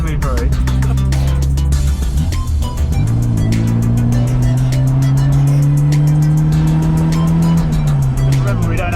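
Classic Mini driving on a Peak District day out, its engine loud and close with a rising then falling drone as it accelerates and eases off, and steady road and wind noise underneath, with people talking over it.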